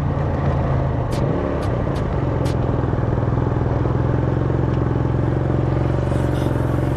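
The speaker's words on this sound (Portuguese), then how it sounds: "Na cidade aqui, a moto não aguenta andar na cidade." A Comet GTR motorcycle rides along a city road, its engine droning loud and steady with a buzzing rhythm, close to the rider, with occasional clatter and no talk.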